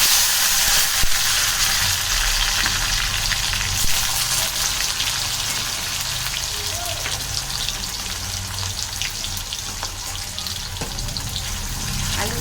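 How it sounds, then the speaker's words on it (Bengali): Thin slices of a medium potato, with a small cut chili, frying in a pan: a loud, dense, unbroken sizzle close to the ear, with faint crackles and small pops scattered through it. "একটু নেড়ে চেড়ে ভাজা ভাজা করে নেব"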